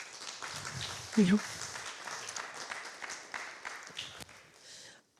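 An audience at a design lecture panel applauds, a moderate spread of clapping hands that fades toward the end, with a speaker's voice briefly audible over it.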